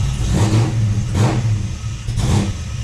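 A Ford Falcon XB GS engine under restoration is revved three times with the throttle, each blip rising over a deep, steady idle, close and loud.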